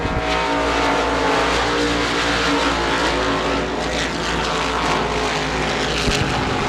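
Modified race cars roar around the Devils Bowl Speedway oval in a continuous, loud, dense engine drone, several motors blending into a steady full-throttle wall of sound.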